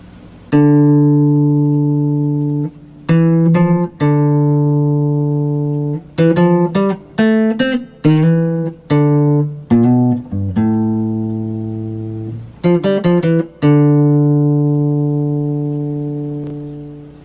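A clean, warm jazz guitar riff of single notes and short runs, picked softly with the thumb, with some notes left to ring out alone.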